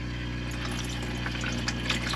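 Water spills and gushes steadily from a freezer ice tray in a fifth-wheel camper over a low mechanical hum, with a few brighter splashes near the end.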